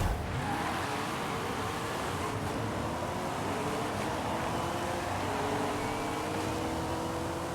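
Race cars roar through an airfield crossing event in Forza Horizon 5, with engines revving and accelerating continuously over a dense, steady wash of road and wind noise, fairly loud and uninterrupted for several seconds.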